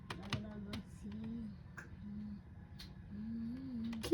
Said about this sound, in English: Please stop clicking.